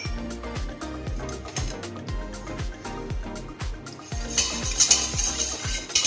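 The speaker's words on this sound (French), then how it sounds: "Ensuite là, je reprends mon jaune que j'ai réservé. Et là, je vais incorporer le lait." Milk being stirred into a reserved egg yolk in a bowl, a steady repeating whisking rhythm of quick strokes, close up, growing brighter and splashier toward the end, with no speech.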